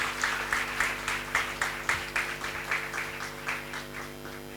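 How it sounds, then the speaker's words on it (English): Audience applause for paper presenters at a CA students' conference, a steady run of rhythmic clapping peaks filling the hall at moderate level throughout, with no speech over it. "Please give them a big round of applause."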